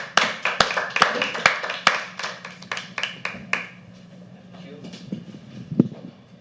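Audience applause at a live poetry open mic, brisk clapping from a crowd that is loud at first, then thins out and fades to scattered claps and room noise.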